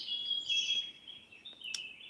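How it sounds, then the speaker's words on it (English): A played recording of nature sounds carries a faint, thin bird song with a few high chirps and a sustained warble over a quiet background, with no voices. "nature sounds, the birds and all of that"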